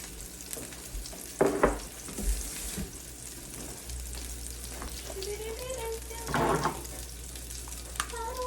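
Turkey burger ingredients sizzle in a hot pan with a moderate, steady frying hiss, broken by a few brief louder clatters and scraping sounds. No one speaks.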